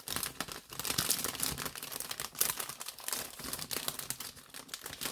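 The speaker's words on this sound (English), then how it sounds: "Sorry about the crinkling of the bags" Plastic model kit bags crinkling and rustling up close, a busy crackly stream of crumpling with small bursts, no talking.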